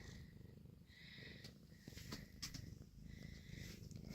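Several cats lie piled together napping and purr softly and steadily at close range, a quiet continuous rumble with faint rustles and no talk.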